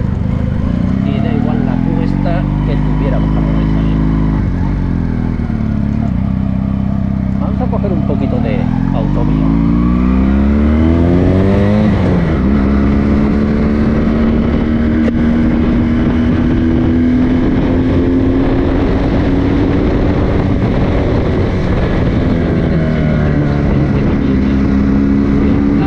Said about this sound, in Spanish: un paseito en la moto, viene de lujo